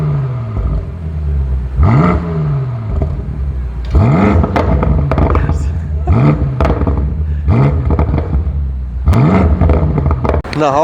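A BMW M5 Competition F90 engine revved repeatedly, loud close blips rising and falling in pitch, several sharp throttle bursts in a row with a rumbling idle between them.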